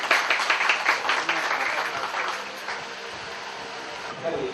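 Applause from a studio audience on the set of a Hindi TV serial, a dense patter of clapping that swells at the start and then tapers, with voices mixed in beneath it.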